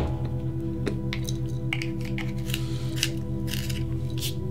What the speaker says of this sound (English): you want to then sharpen your pencil up.